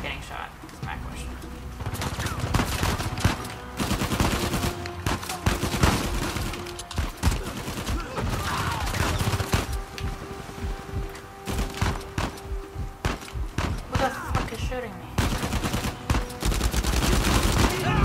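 Sustained Uncharted 4 firefight with dense bursts of automatic gunfire and scattered single shots, rattling on and off for the whole stretch while a player's voice talks over it.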